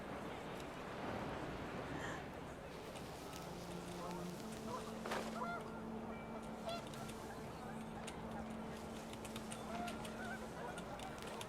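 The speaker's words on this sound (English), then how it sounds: "wind picked up and panicked geese appeared and quickly went" Panicked geese honk in the video game What Remains of Edith Finch, with a flurry of nasal calls rising over a windy, rustling background and a voice talking underneath.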